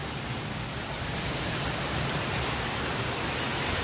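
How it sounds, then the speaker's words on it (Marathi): Heavy stormy rain pours steadily throughout, a dense, even roar of falling water close by with no breaks and no voices. "अरे पाऊस जोरात आहे."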